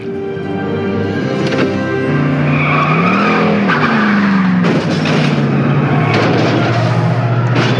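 A car driving and skidding, with loud continuous engine roar and sweeping tire squeals rising and falling over several seconds, close and dominant throughout.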